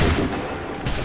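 Musket volley fire from Assassin's Creed III, a dense burst of overlapping shots that stays loud for the whole second, with a fresh crack near the end.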